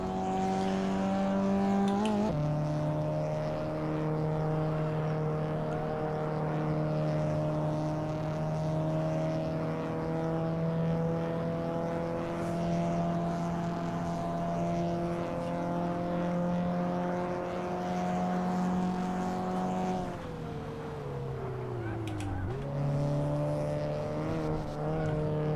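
Polo N6 race car engine in Assetto Corsa, droning steadily at high revs with strong harmonic whine, a brief lift and gear change near the end before pulling again, loud and continuous.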